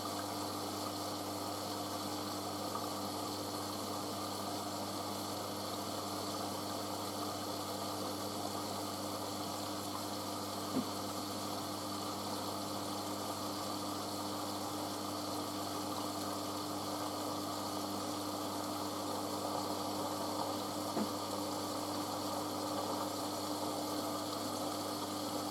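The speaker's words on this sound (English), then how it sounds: "I do like the sound of the machine filling in there." A Hotpoint Casatta WM63 washing machine fills with water on a 60°C colourfast cotton programme, a steady, continuous hiss of inflowing water with a low pump-like hum, even and unbroken throughout, no voices.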